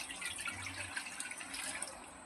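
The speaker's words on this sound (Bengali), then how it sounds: "এখানে আমি হাফ গাবলা জল দিয়ে দেব।" Water poured into a pot for boiling, a steady close splashing stream with bright trickling texture, running continuously without pause and with no talk.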